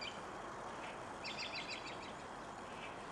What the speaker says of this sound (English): There's a bird over there in that tree.